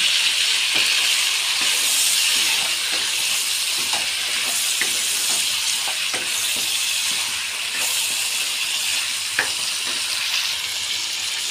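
Ginger, garlic and onion paste sizzling in a hot pan after fish has been fried, a loud, continuous hissing fry with small clicks and pops from stirring, no talking.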